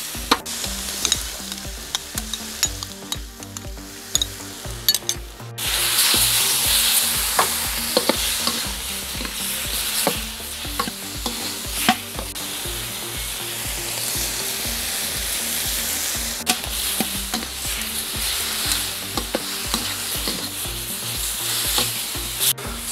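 Shrimp and squid rings sizzle loudly in a hot pan, a steady crackling hiss with occasional stirring clatters, close and continuous.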